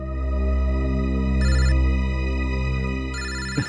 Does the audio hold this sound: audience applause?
no